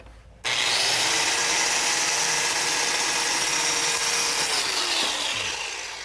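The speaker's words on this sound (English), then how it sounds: "So these are saws specifically made for cutting fiber cement." A circular saw made for fiber cement cuts through fiber cement siding along a straight edge, starting abruptly into a loud, steady grinding whine that holds for several seconds before tapering off, with no talking.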